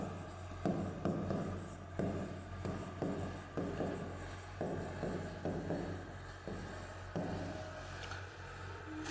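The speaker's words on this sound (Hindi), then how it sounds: "तो यहां लिख देंगे गॉस के प्रमेय अनुसार" Chalk or marker strokes on a board while Gauss's theorem is written out in a Hindi physics lesson, a steady series of short scratchy strokes with brief pauses, close and moderately loud, with no talking.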